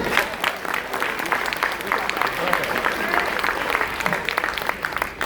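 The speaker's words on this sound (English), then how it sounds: "Clap for that too" An audience applauds a speaker on stage, a dense wash of clapping with cheering voices mixed in throughout.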